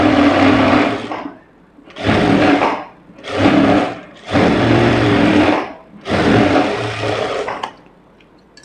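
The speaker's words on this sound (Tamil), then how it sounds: "இப்போ அடுத்த பீஸையும் எடுத்துகிட்டு அதையும் அப்படி தான் அப்படியே இந்த மாதிரி ஃபோல்டு பண்ணிவிட்டு 1/4 இன்ச்சு கேப்பில் சுற்றிலும் தையல் போட்டு எடுத்துருங்க" A sewing machine stitches blouse fabric in four loud close bursts of fast whirring, each lasting about one to two seconds, with short quiet pauses between them.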